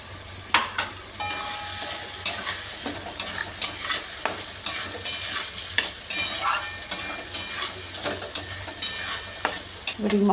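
Spice paste and tomato paste being fried with potatoes in oil for a Bengali fish-roe fritter dish, with a steady sizzle under repeated scraping stirs of a spatula in the pan.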